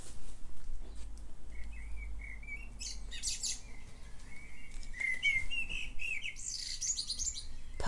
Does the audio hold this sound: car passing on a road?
no